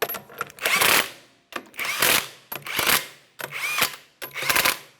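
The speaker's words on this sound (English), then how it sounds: "I'm going to be torquing each one of my lug nuts in a crisscross manner to that 80 foot-pounds" Lug nuts on a 2008-2017 Mitsubishi Lancer rear wheel being tightened to 80 foot-pounds in a crisscross pattern, heard as five loud, close, evenly spaced mechanical bursts, each under a second long, with short silences between them and no talk.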